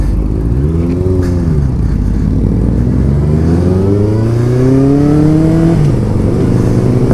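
A customized 2004 Yamaha FZ1 styled like a vintage race bike revs and accelerates up close, its engine pitch sweeping upward through two rising pulls in a loud, continuous mechanical howl.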